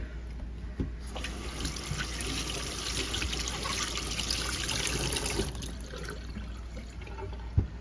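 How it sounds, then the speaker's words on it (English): Canning jars and rings being washed with a soapy rag at a sink, soft continuous wet rubbing and trickling water, steady and close with a couple of light knocks. "And then I take a soapy rag and I just wash them off."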